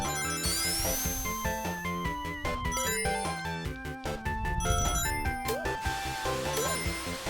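Theme music from the Sonic video game, a bright upbeat chiptune melody with punchy drum hits and a bouncing bass line, played loud and continuous.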